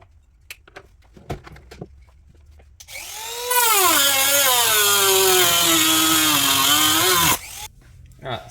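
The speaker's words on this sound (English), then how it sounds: "I'm going to do that just by using a little sort of Dremel tool." A small Dremel rotary tool spins up and cuts into a battery box, a loud, close, high whine that dips and rises as it bites for about four seconds, framed by clicks and handling noises.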